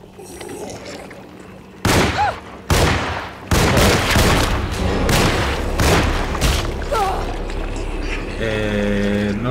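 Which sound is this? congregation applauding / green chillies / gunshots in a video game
gunshots in a video game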